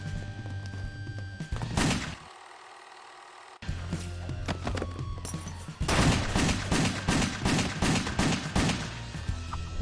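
Gunfire erupts in the action game WET while jumping through the air, with rapid volleys of close, loud shots, a brief muffled pause, then dense sustained automatic fire toward the end.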